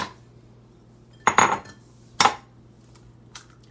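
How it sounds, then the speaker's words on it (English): Two sharp clicks against a bowl, an egg tapped and cracked for old-fashioned banana bread, spaced about a second apart, close and clear, with a faint third tap later and a quiet room otherwise. "I'm going to crack the egg one at a time"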